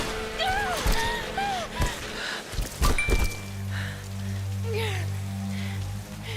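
Steady rain patters over a muddy outdoor area in the Tomb Raider 2013 video game, a continuous soft hiss under occasional thuds, gasps and a low droning tone.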